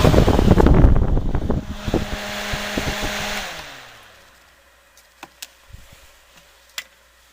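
A noisy electric fan whirs loudly with a rough, buzzing hum, then winds down over a few seconds into near silence, followed by a handful of sharp, isolated clicks and taps.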